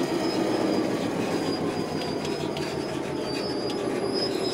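A Class 66 diesel locomotive in Train Sim World 3 rumbles along steadily with squealing wheels and faint clickety-clack, a continuous loud rail sound with no talk.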